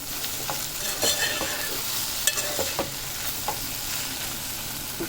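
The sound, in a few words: stirring bitter gourd curry in a pan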